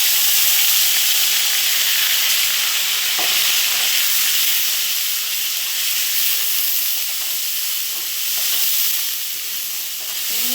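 A ginger and cumin spice paste hits fried potatoes in a hot pan for a raw-banana kofta curry, giving a loud, dense, continuous hiss and sizzle with faint stirring, close and without any talk.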